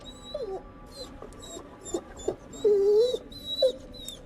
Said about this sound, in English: That dog again.